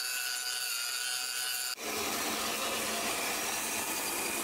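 A forged Damascus steel billet being ground on a power grinder for a chef knife: a steady, harsh hissing roar that suddenly shifts to a denser, louder grinding rasp partway through, continuous and close.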